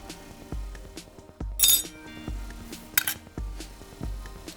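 A metal spoon scoops a tablespoon of mustard into a bowl for honey mustard dressing, giving several sharp, close clinks against the dish between softer knocks and scraping.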